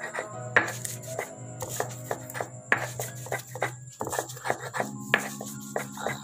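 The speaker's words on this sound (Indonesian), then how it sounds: "Oke, kita giling lagi." Spices ground by hand in a mortar, a series of irregular hard pounding and scraping knocks, close and fairly loud, with a low hum underneath.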